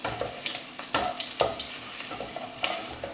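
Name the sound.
green chili added to hot oil for tempering, sizzling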